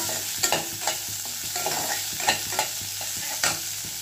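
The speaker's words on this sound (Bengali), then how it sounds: "আর দেব আদা কুচি, দিয়ে একটু নাড়াচাড়া করতে হবে।" Chopped ginger with onion is stirred through a vegetable stew in a kadai. A spatula scrapes and knocks the pan in irregular strokes over a steady sizzle from the hot oil.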